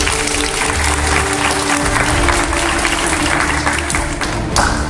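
Loud, dense applause fills the hall for taekwondo students at a children's and teens' beginner class, steady clapping from many hands throughout with a few thumps.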